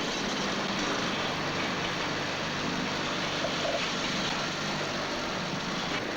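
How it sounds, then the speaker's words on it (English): A track relaying machine lifts old rails and sleepers in a steady, loud mechanical roar with a constant engine drone and rumble, without a break. "As the machine moves forward, the old rails are lifted to each side of the track."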